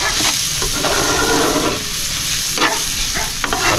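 Vegetables, carrots among them, sauté in a hot pan with a loud, continuous, close-up sizzle and hiss, steady throughout with slight surges and no talking.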